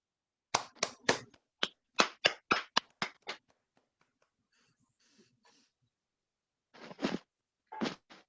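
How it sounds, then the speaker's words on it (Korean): An audience welcomes a speaker at a forum on education curriculum reform with bursts of hand clapping in a hall, a dozen sharp separate claps at first, then a pause and a few louder claps near the end. "큰 박수로 맞이해 주시기 바랍니다."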